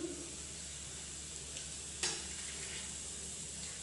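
Mustard seeds, fennel, asafoetida and nigella seeds sizzle in hot oil, a soft steady hiss with a single sharp crackle midway, close and alone without any voices.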